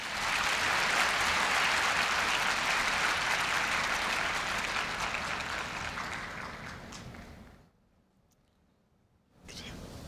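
Loud, sustained applause from a large crowd at a 2015 Korea University freshman entrance ceremony after the new-student oath, steady for about seven seconds before fading to near silence, then resuming briefly.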